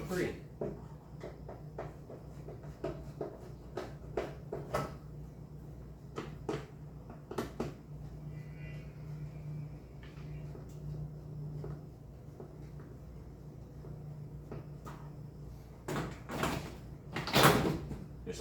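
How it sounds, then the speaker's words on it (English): On a 1987 Dodge D100 pickup, the door panel is pried loose with a run of plastic clicks, snaps and scrapes scattered over a low hum, then a louder burst of cracking near the end as it comes free. "And this door panel should come free."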